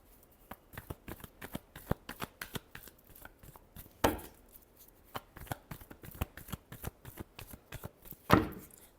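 Tarot cards being shuffled by hand, a rapid run of crisp riffling flicks and slaps at close range, with two louder riffle bursts standing out, no talk.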